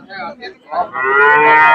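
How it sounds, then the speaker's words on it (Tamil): Cattle at a Friday cow market in Seenapuram, where a cross-breed calf and a Jersey are on show, give a loud, close, drawn-out moo that swells and holds after a few shorter grunting calls. "கண்ணு மாடு ஒன்று கொண்டாந்துருக்காங்க இது கிராஸ் மாடு தான்"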